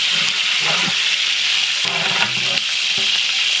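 Whole spices — cinnamon, cloves and cardamom — fry and sizzle steadily in oil in a pot for beef rice, a loud continuous crackle with occasional stirring scrapes and no talk.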